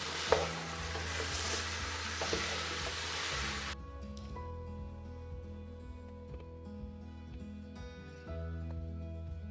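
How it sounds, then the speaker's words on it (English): Sausage sizzles as it par-cooks in a pan, a loud dense frying hiss for several seconds that suddenly drops to quiet bubbling with a low background hum. "I'm only kind of par cooking this anyway, guys, because it's going to finish cooking when I pressure cook it."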